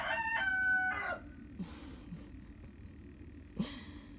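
A backyard rooster crows once, a loud, near, harmonic cock-a-doodle-doo lasting about a second, followed by softer clucks and a brief squawk from the flock, with no talk.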